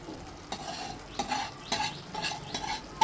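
A spoon stirs gongura and chukkakura leaf paste into a simmering prawn curry in a pot, giving a few soft scraping strokes and light sizzling at close range, with no voices.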